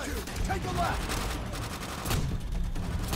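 M1 Garand rifle fire in the World War II shooter game Call of Duty: World at War, a cluster of gunshots and battle noise over a couple of seconds with a voice talking briefly.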